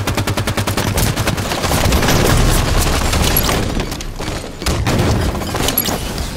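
Gunfire in the video game Halo 5, a loud rapid string of automatic shots opening into sustained firing, then a short pause and more bursts, close and dominant, with no talk.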